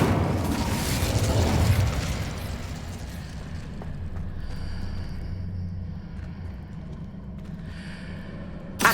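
Incendio fire spell cast in Hogwarts Legacy, a loud whooshing burst of flame and a boom at the start that decays into a lingering rumble and crackle, with a short pop at the end.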